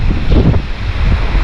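Strong storm wind buffets the microphone beside a lake, a loud continuous low roar with gusty rumbling swells over brief surges, close and alone with no talk.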